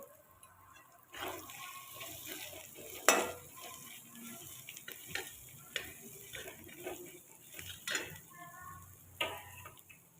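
Turmeric is stirred into spices in a pan for a bottle gourd bhaji, with faint sizzling under scattered spoon scrapes and clinks against the metal pan, some sharper knocks standing out, no speech.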